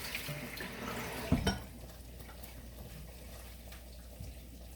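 A kitchen tap runs water briefly into a sink, with a short clatter near the start, then a quieter steady trickle that fades low, nobody speaking.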